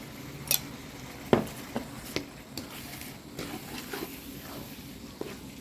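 Rice noodles with minced pork for Thai coconut-milk noodles are stir-fried in a pan, with sharp utensil clinks and scrapes against the metal over a soft background hiss.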